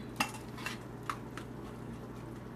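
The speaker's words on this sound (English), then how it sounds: "just mix that cream in there" Stirring cream into shrimp and grits in a pan: soft, close utensil scrapes and a few light clinks against the pan over a low steady hum, quiet and unhurried.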